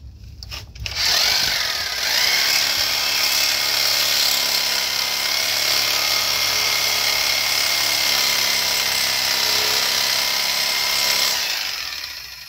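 A power cutter grinds through an S-cam bushing on a semi trailer, a loud, continuous harsh whine that starts after a brief knock and runs steadily for about ten seconds before winding down.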